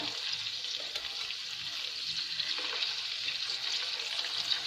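Stuffed bitter gourds filled with minced meat fry gently in oil over a low flame, giving a steady, soft, continuous sizzle with faint crackles throughout and no voices.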